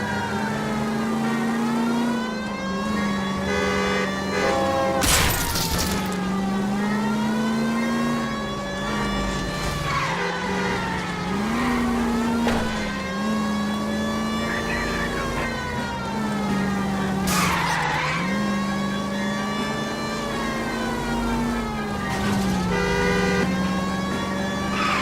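Police pursuit in the video game L.A. Noire, with a wailing siren rising and falling steadily over a loud revving car engine throughout, plus brief sharp bursts that could be tire skids.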